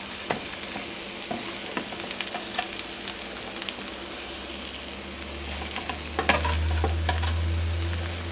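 Turkey burgers coated in butter and breadcrumbs sizzle steadily in a pan at close range. Occasional crackles and a few light utensil taps come through, and the frying grows a little louder toward the end with no speech.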